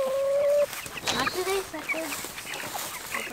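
Backyard chickens cluck and squawk close by in short, irregular bursts, with one drawn-out call at the start, while people talk among them.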